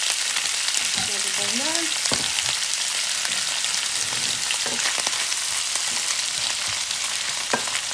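Gathered shellfish frying in garlic oil in a pan on Sakhalin, with a loud, dense, continuous sizzle that holds steady throughout and a few soft clicks and stirring sounds, while a person speaks briefly near the start.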